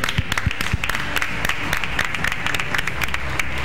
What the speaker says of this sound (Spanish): por favor demos un aplauso a nuestra amiga de Taima